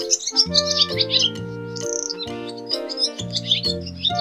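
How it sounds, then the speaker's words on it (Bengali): A dove calling from a tree: a run of short, clear chirping notes over steady tonal sounds, fairly close and continuous for a few seconds. "ঘয়ে ঘুঘু পাখি ডাকছে গাছে।"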